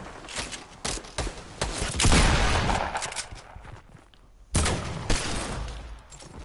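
A minigun in the Fortnite video game: sharp shots crack, then a loud, continuous roaring stream of fire runs for a couple of seconds, dies away, and another heavy burst erupts near the end.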